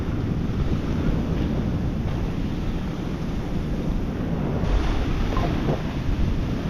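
Ocean surf breaks and rushes continuously on a beach, a loud, steady wash of churning water with heavy wind buffeting the microphone, no voices present.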